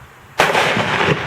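A single loud gunshot strikes an exploding target, a sharp blast followed by a rough, decaying roar lasting about a second.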